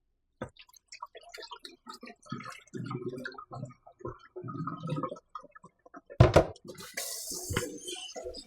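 Rice, two cups, being rinsed in a pot under running tap water for a Jamaican-style stew chicken recipe, with irregular splashing, swishing and dripping throughout and a louder gush of water near the end.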